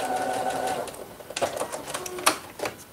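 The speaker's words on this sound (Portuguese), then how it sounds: "E eu posso abrir aqui e dar uma costurinha aqui." Sewing machine stitching a seam on a zippered cushion, a brief whirring run of needle strokes followed by scattered mechanical clicks and taps as the fabric is adjusted, close and clear.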